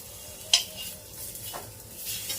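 Sabzi is stirred in a pan over a medium gas flame, giving a soft steady sizzle with a sharp utensil click against the pan and a couple of fainter scrapes, close and without speech.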